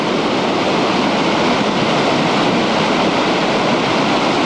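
Flooded Ventura River swirling high against the top of a levee, a loud continuous roar of rushing water with wind buffeting, steady and unbroken with no voices.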